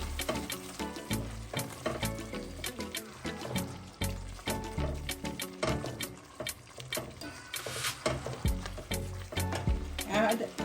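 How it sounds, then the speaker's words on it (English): Meatball curry sizzling and frying in a pan while being stirred, with scraping and bubbling throughout and a voice talking over the cooking now and then. "Give it a stir."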